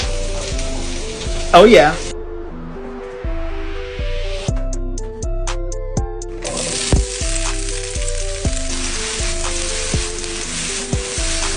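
A low carb stir fry with black garlic sizzles and crackles in a hot pan, a steady frying hiss running under background music with a voice speaking briefly.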